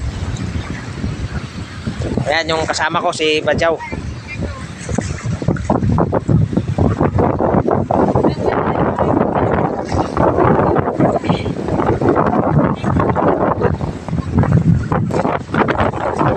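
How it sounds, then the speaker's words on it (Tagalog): Strong wind roars steadily across the microphone over rough open sea, with someone speaking briefly near the start. "Pasensya na yung video na ito mga kaibigan kasi medyo maingay yung hangin. Maalon kasi."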